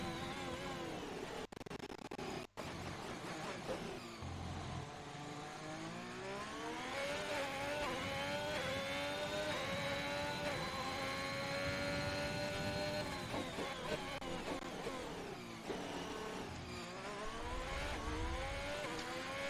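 Ferrari race car engine heard onboard in a sim racing game, revving steadily upward through a long sustained pull with rising pitch, then dropping and shifting, loud and close with no talk.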